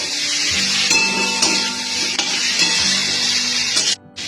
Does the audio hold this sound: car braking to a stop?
no